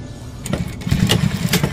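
A sewing machine motor hums as it pushes the needle through thick folded cargo-pocket fabric, a steady close mechanical drone with a few brief sharp ticks over about two seconds.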